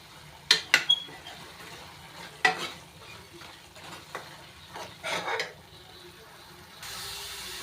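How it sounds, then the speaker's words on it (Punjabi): Masala for matar paneer roasts in a pan with a soft sizzle, while a spoon stirs and scrapes with several sharp clinks against the metal, growing quieter toward the end. "ਇਸ ਤਰ੍ਹਾਂ ਚੰਗੀ ਤਰ੍ਹਾਂ ਭੁੰਨ ਲਵਾਂਗੇ"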